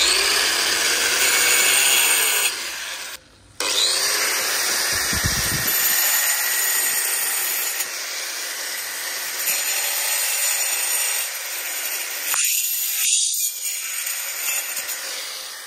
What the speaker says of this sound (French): on va faire une entaille ici à la meuleuse